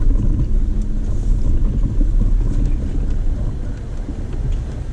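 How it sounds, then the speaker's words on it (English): A Toyota FJ and a Chevy Silverado roll down a dirt trail at Peter's Mill Run, giving a steady, close, rumbling drone of engines and tyres with wind buffeting the microphone and no clear break. "We got an FJ and a Silverado coming down."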